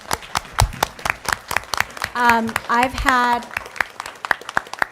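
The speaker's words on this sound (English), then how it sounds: "we want to give you a round of applause" Scattered clapping at a school board meeting honors parents supporting their kids, with sharp individual claps under a speaking voice and a brief stretch of sung or sustained vocal sound in the middle.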